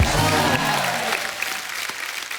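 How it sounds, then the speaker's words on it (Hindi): Studio audience at a Hindi comedy show applauds an arriving guest, a dense burst of clapping that is loudest at the start and then thins and fades over about two seconds, with no talk over it. "जोरदार तालियां हो जाए।"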